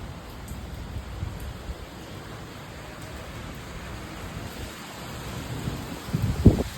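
Steady rain falls through a rainy evening, an even broad wash of noise with a slightly louder rustle near the end.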